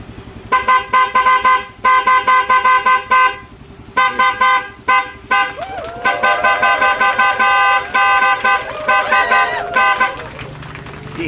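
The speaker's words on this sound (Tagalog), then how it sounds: "Busina mo nga, sir." A car horn, weakened by a battery shortcut wiring fault, honks repeatedly in short bursts, a pause, then more rapid toots, loud and close with a slightly uneven, wavering tone.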